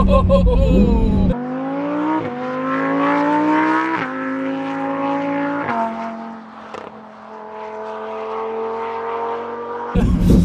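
A Lamborghini Huracán Performante accelerates hard down a straight, its engine climbing loudly through several gears, each shift briefly dipping the roar before the pitch rises again, heard from inside the car.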